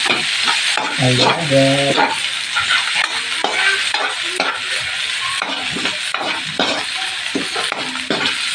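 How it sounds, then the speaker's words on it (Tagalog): Garlic sautéing in a pan for beef kaldereta, with a close, steady sizzle broken by repeated scraping and stirring strokes. A voice speaks briefly early on. "Medyo papamuyo po natin yung bawang para mukhang mabango."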